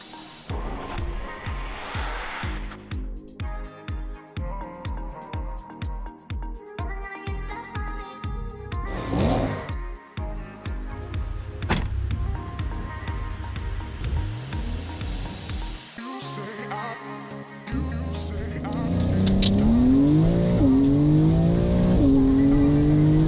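A Porsche 911 Carrera 2S of the 992 generation pulls away, its engine note rising through revs with rhythmic gear pulses, then fading as steady road and wind rush takes over.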